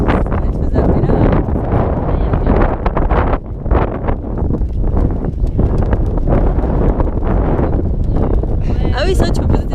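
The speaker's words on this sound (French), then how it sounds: "t'as vu le vent qu'il y a?" Strong gusts on a Nepalese hillside near Jiri buffet the microphone in loud, surging rumbles that rise and fall, with people talking through the wind.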